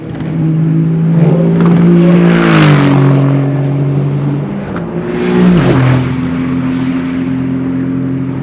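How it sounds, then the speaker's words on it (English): A loud, deep V8 engine of an Aston Martin Vantage LMGT3 race car roars close by, revving up and dropping through gear changes twice, its low grumbling tone dominating throughout. "our GT3 car is the V8 and the big low grumble"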